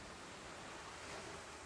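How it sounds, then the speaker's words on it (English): Ocean waves rolling outside a seaside cottage on a summer night, a soft, steady wash of surf heard faintly through partly closed windows, continuous and even with no voices. "You close the windows part way, just enough to still hear the waves outside"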